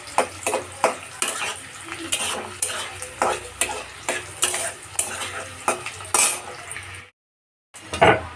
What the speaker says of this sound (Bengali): কাজু আর কিশমিশটা আমি ভালো করে লাল লাল করে একটু ভেজে নিচ্ছি।